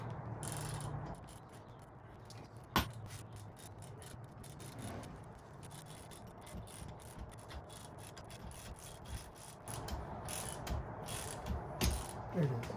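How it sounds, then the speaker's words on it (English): Someone cranks a bearing puller to draw a bearing off the counter shaft of a Marlin Crawler dual transfer case. It gives a faint, continuous run of fine ratcheting clicks, with a few sharper knocks and louder clicking near the end. "So now we're going to start cranking down on this and it should pull the bearing off."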